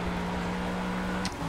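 A race car engine at Le Mans in Project CARS, near the Porsche curves, holds a steady droning note that shifts briefly near the end.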